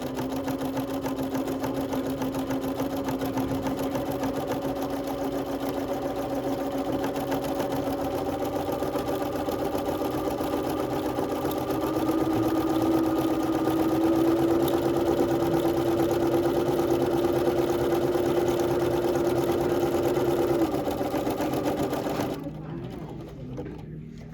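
A Bernina sewing machine runs steadily while stitching an automatic buttonhole, a loud, continuous mechanical whir and hum that holds for about twenty seconds before stopping abruptly on its own.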